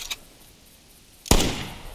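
A single sharp, loud rifle shot cracks out during a deer hunt, its report ringing and slowly decaying over the next second after a faint earlier tap.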